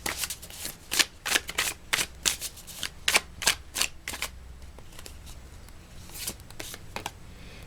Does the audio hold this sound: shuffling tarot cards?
yes